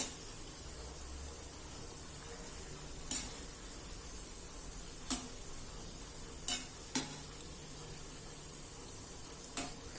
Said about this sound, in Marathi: आता आपल्याला ह्या दोन्ही साईडनी खरपूस होईपर्यंत तळून घ्यायचे आहे